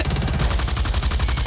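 Rapid, steady LMG machine gun fire in a Blacklight: Tango Down team deathmatch on the Wharfare map, a continuous burst of evenly spaced shots running loud and close throughout.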